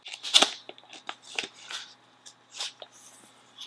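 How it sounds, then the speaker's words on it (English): Plastic wrapping crinkles and tears as it is pulled off a GEEKOM MiniAir 11 mini PC, a series of close, irregular rustling bursts with brief pauses between them. "Let's take out the plastic"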